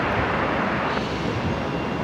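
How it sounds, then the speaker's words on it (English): A Boeing 737 MAX 8 arriving from Melbourne at Brisbane Airport makes a steady, broad jet roar with a rumbling low end, continuous and fairly close. "Max 8 coming in here, velocity 333 from Melbourne."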